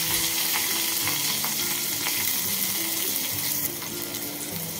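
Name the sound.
onion frying in oil with curry leaves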